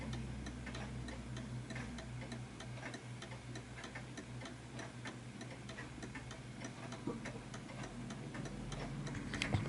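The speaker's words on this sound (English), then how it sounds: "So I can hear that ticking quite nicely, but it's not perfect" An Art Deco chiming mantel clock ticks steadily, with evenly spaced sharp ticks that stay close and clear over a low, constant background hum. No one speaks.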